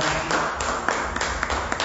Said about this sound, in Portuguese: Você pode aplaudir ao Senhor com fé.